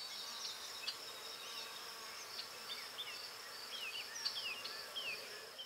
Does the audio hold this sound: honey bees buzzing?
yes